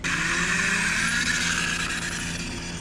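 Rear-wheel-drive kart with a Honda engine on a VW Bug chassis, fitted with new coilovers, drives past: a steady, loud engine drone holds for a few seconds with a slight fade toward the end, with no voices over it.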